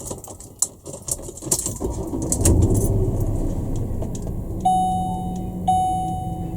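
A 2006 Ford Explorer starts with a key turn: a jangle of keys and an engine cranking into a steady idle, followed by two rising electronic chimes, all close and fairly loud.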